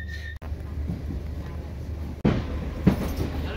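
Rumbling interior of a Merseyrail passenger train nearing Maghull North on the line to Liverpool Central, a steady low drone with two sharp dropouts and a brief louder surge as it slows toward the station.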